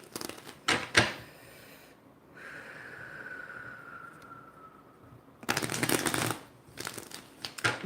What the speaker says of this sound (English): Let me just give these a quick shuffle and get them cleared and ready to go.